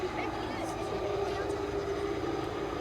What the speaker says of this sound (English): It arrived on the display circuit in the roll for takeoff